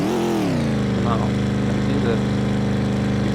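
Simulated car engine from a Unity car video game, a steady droning hum with stable harmonics that holds continuously throughout, with a slight pitch dip near the start.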